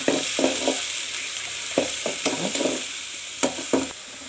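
A spatula stirring ground paste for kalan curry in a hot pan, several distinct scraping strokes over a steady sizzle, close and fairly loud.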